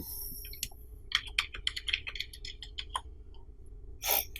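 Computer keyboard typing while filling in an online form, a quiet close run of scattered key clicks in irregular bursts, with a slightly louder cluster near the end and no talking.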